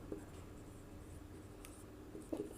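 Quiet, brief scratchy strokes of a formula being written on a board during a class 10 trigonometry lecture, faint against the room's background hum.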